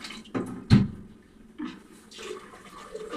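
Water poured from a jug into a pot of cooking moong dal: a few short splashing bursts with quieter gaps between, close by and alone with no talking.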